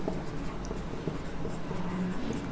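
Writing on a board during a biology lesson, with soft, continuous scratching strokes in a quiet room and no talk.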